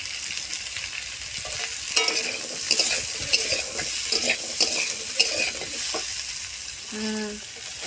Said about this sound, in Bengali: এবার আলুগুলোকে ওই পেঁয়াজ আর ওই যে মশলাগুলোর সাথে খুব ভালোভাবে নাড়িয়ে চাড়িয়ে নিতে হবে যাতে আলুগুলো খুব ভালোভাবে ভাজা হয়ে যায়।